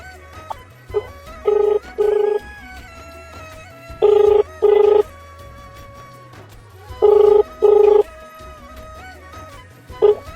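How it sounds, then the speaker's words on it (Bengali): Outgoing call ringback on a phone: paired electronic rings repeat three times at steady intervals, loud and clear with no talking over them. "লাস্ট আর একবার ফোন করছি দেখি কি বলে"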